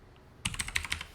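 Quick run of keystrokes on a computer keyboard, about eight crisp clicky taps close by in a short burst, with no talk.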